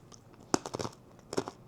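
Two crunchy bites into a turmeric and sea salt almond, close and fairly faint, each a short crackling burst followed by brief chewing.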